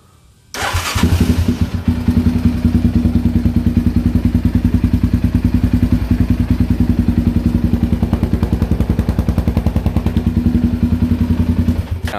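Idling Ford Raptor engine after its idle speed was lowered, starting up after a brief quiet moment, then running at a loud, steady, close rumble with an even pulsing beat and some mechanical clatter.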